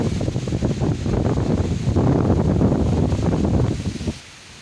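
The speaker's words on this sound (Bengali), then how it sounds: "গাইস অনেক বাতাস" Strong storm wind in a village: a loud, steady rushing roar of gusts buffeting close by, holding for about four seconds before dropping away abruptly, with no one speaking.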